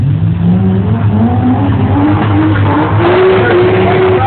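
A Nissan Skyline GTR and a 1976 Trans Am V8 launching off the line in a drag race, loud engine roar rising in pitch with tyres briefly scrabbling for traction, close and continuous.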